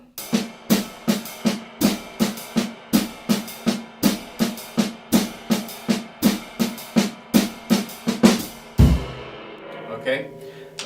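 A jazz drum kit plays steady quarter-note triplets in 4/4, with sharp, evenly spaced cymbal and drum hits over about nine seconds, ending in a crash that rings out.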